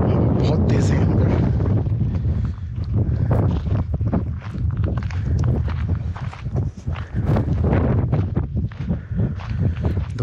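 Strong wind at the Umling La mountain pass buffets the microphone in a continuous loud, gusty roar, with a voice speaking briefly beneath it.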